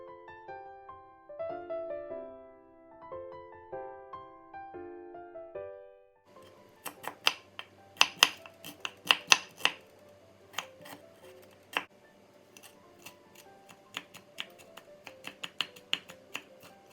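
Garlic cloves and shallots are chopped finely with a knife on a board, a fast uneven run of sharp close taps after a few seconds of soft background music.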